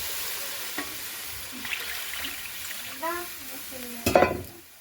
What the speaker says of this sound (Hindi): और इसमें हम डाल देते हैं पानी।